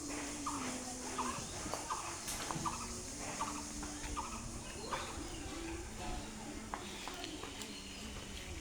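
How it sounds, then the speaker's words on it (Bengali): Ducks call at a village pond, a string of quick, fairly faint nasal quacks and chatter repeating over several seconds under a steady high insect drone, while someone talks. "হাঁস"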